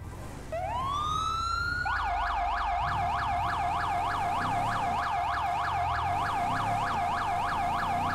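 A wailing emergency siren from a fire response in the video game GTA FiveM sweeps up, then settles into a loud, steady alternating wail that runs continuously over a low engine rumble.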